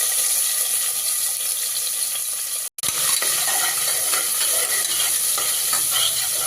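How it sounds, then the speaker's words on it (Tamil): Onions and curry leaves frying in oil, stirred with a spoon: steady close sizzling with scraping stir strokes, broken by a brief cut near the three-second mark. "கருவேப்பிலை, வெங்காயம் நல்லா வதங்கிச்சு"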